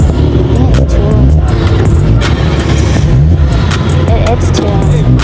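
Several tuned, modded cars, among them Honda Type Rs and Toyota Supras, revving loudly at a midnight street meet, engines roaring and crackling together in a dense, close wall of sound with voices in the crowd.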